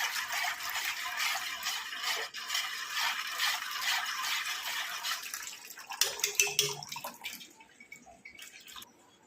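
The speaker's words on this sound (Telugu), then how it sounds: "వాటర్ పోసుకుందాము." Plain water poured into a vessel holding ground green chillies, coriander and mint, a close running splash that gurgles and trickles before tapering off into faint drips.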